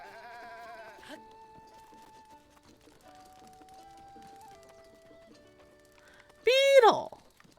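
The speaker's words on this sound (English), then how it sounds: "Goats, aren't they cute?" A goat in Zelda: Breath of the Wild gives one loud, wavering bleat near the end, after soft tonal game music and faint hoof-like taps.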